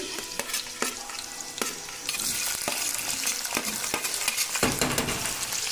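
Onions frying and being stirred in a pan on a gas stove, a steady close sizzle with repeated scraping stir strokes throughout, no talking.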